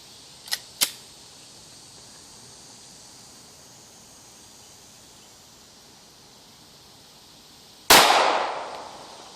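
One .40 S&W round, a Barnes TAC 180 grain all-copper hollow point, fired outdoors: two small clicks early on, a long quiet stretch, then a loud sharp report trailing off in a short echoing decay.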